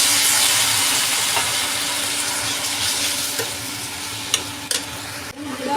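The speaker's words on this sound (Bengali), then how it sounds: "পরিমাণ মতো পানি দিয়ে দিব।" Water poured into a hot pan of dried shrimp, onion and spices in mustard oil gives a loud steaming hiss that slowly eases, broken by a few stirring knocks near the end.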